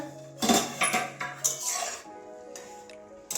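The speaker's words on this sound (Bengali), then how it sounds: "এবারে ঢাকনাটা খুলছি" Lid lifted off a cooking pot of boiling cauliflower, a series of close metallic clanks and scrapes with short ringing tones, then a few quieter knocks.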